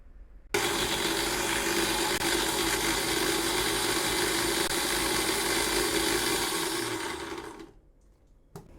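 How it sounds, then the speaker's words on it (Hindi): A mixer grinder runs steadily for about seven seconds, grinding onion with a little water, a loud dense whirring roar that stops abruptly and winds down, with a small clunk at the end. "आधी प्याज मिक्सी में डालकर थोड़ा पानी ऐड करके ग्राइंड कर लेंगे और बारीक पीस लेंगे।"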